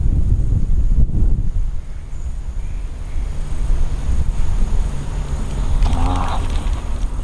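Wind buffets the microphone at a reservoir during a fishing trip at Nazaré Paulista, a loud, steady rushing roar with gusty swells, alone without talk, with a faint bird call near the end.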